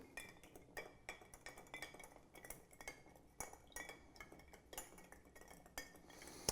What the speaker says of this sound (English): add our ice and stir it down to temperature